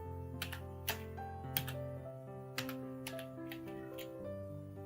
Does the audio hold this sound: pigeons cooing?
no